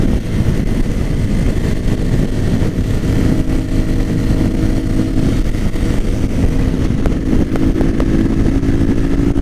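A Yamaha Fazer 250 ABS motorcycle out on the road, its engine droning loud and steady with a rough, continuous rumble and rushing wind noise for the whole stretch, no talking over it.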